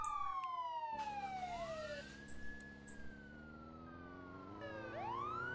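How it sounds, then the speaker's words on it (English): A police car siren in the Roblox game New Haven wails with rising and falling sweeps, running steadily and loud over engine noise during a pursuit. "Oh, I didn't even have my sirens on."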